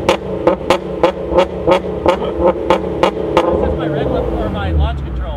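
Nissan 350Z engine revving in a series of about eight sharp, loud throttle blips at a steady rhythm, then settling into a rumbling idle, with voices talking faintly underneath.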